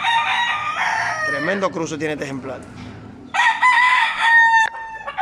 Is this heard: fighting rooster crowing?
yes